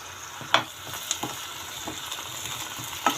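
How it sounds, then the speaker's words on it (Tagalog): Onions, chayote and carrot sautéed in a pan for mixed vegetables with oyster sauce: a steady hissing sizzle with a few scrapes and clinks from a spatula stirring against the pan. "nagisa na ako guys ng sibuyas"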